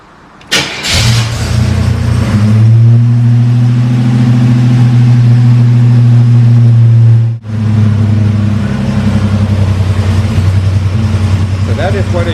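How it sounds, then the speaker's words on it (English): A Buick GNX starts with a sharp crank and catch, then settles into a loud, steady, rumbling idle through its exhaust muffler, with a brief dip midway before the low drone resumes. "That is what a Buick GNX bumper or exhaust muffler sounds like."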